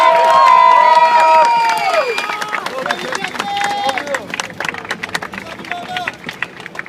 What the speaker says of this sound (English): Just give her a big applause,